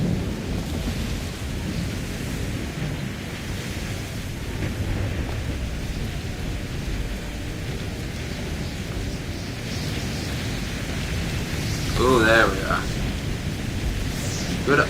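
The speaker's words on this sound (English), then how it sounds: "We've been on this storm for like 2 hours." A thunderstorm at sea in Assassin's Creed III gives steady rain and wind with a low rumble of thunder throughout, and a brief sharp creak or cry near the end.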